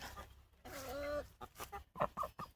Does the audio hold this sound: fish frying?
no